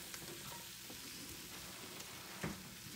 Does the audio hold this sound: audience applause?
no